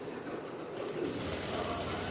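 A sewing machine runs steadily, stitching a silk skirt (pattu pavadai) for a young girl, a low continuous motor whir that grows a little brighter partway through, quiet and close.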